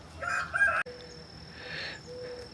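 A rooster gives a short crow close by, with a faint sharp click partway through. Quieter fowl sounds and a thin steady tone follow in a calm outdoor setting.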